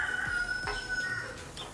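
A rooster crows in a single drawn-out call lasting over a second, moderately close and clear, with no talking over it.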